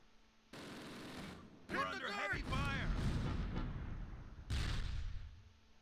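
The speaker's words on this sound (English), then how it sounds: "Mortars are falling." Mortar shells fall in the Close Combat: Panthers in the Fog war game, with a burst of booming impacts and crackling gunfire that rises and then holds steady around a voice talking over the battle.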